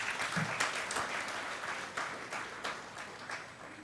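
Dense, steady applause from an audience at a hospitality-school alumni address, many hands clapping together and filling the room, with no speech over it.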